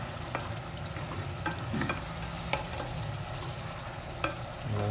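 Chicken tinola being stirred in a pot, a soft continuous sizzle broken by several sharp scrapes and clinks of the spoon against the metal, close and with no voices.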